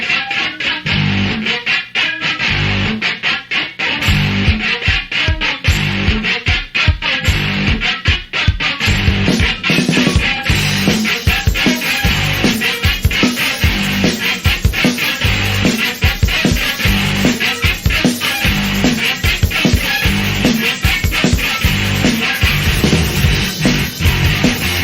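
A song plays loud and continuous, an upbeat, fast, grungy rock track with pounding drums and dense distorted bass driving steadily throughout.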